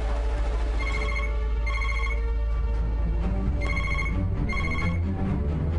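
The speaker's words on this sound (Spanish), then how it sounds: "Es el teléfono de la sala de reuniones presidencial," A telephone rings repeatedly in a presidential meeting room, its bursts of ringing recurring in a steady pattern over low background rumble.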